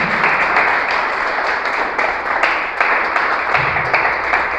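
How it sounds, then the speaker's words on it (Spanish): A church congregation offers applause to the Lord, a loud dense clapping crowd with rhythmic pulses running through it, close and sustained. "Levantemos una ofrenda de aplausos para el Señor."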